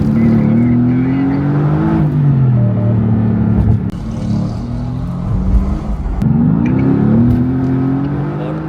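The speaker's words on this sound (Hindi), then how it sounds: "मैं भगा लूं गाड़ी यार।" A Mercedes-AMG GT sports car speeds up on a highway, with a deep, continuous engine rumble that climbs in pitch twice as it accelerates, heard close over steady road and wind noise.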